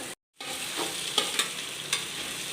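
Vegetables with three colours of capsicum stir-fried for fried rice in a hot pan, a steady sizzle with a few sharp scraping stir strokes after a brief silent gap.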